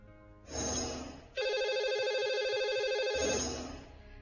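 A telephone rings out to a lucky caller on a radio show, giving a bright electronic trill in two bursts with a short gap between them, loud and clear with no voices.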